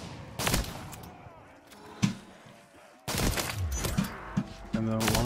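Shotgun blasts and launcher explosions in a modded Black Ops 3 Zombies match, a few sharp booming reports separated by quieter gaps, with talk mixed in.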